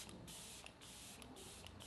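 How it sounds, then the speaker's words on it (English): Benefit Professional Setting Spray misted over a made-up face in a quick run of several short, airy pump spritzes, close to the microphone and separated by brief gaps. "I'm just gonna do a little spritz of the Benefit Professional Setting Spray."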